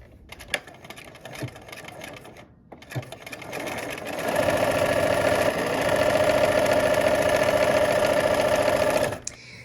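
After a few soft handling clicks, a sewing machine stitches Y seams on a Lemoyne Star quilt block in a steady, loud mechanical hum.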